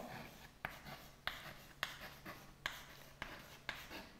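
Pen or marker writing out a math solution, a quiet scratchy surface sound punctuated by about seven sharp taps as strokes land, close and steady with no talk.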